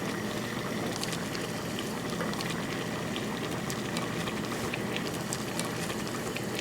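A pot of Korean spicy chicken stew with potatoes and vegetables bubbles steadily, a dense, even hiss of boiling liquid heard up close for several seconds.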